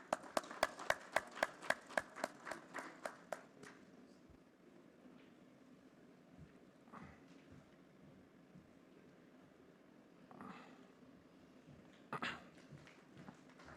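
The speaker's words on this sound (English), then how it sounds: "Big round of applause for Samit." A burst of rapid, sharp clapping from a conference audience fills the first few seconds, then fades into a quiet murmuring room with a few scattered noises.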